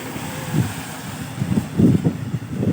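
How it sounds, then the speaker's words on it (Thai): Gusty wind buffets the microphone in uneven low rumbles, growing stronger toward the end, with a faint wash of rain in the background. "ลมนะครับทั้งลมทั้งฝนนะพี่น้องนะ"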